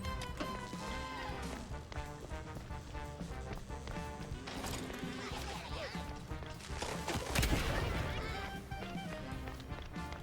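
A single weapon explosion bursts in the Mouse: P.I. For Hire video game, rising above busy game sound effects and a running rhythm before fading out.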